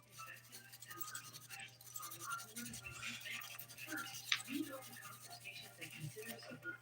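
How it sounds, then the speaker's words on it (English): Fingernails scrubbed with a nail brush to clear filing dust during a dip powder manicure: quiet, close, brisk bristle scratching in quick back-and-forth strokes that keep going throughout. "I'm spraying it onto a nail brush, and this works well at getting all that filing dust out of the little crevices"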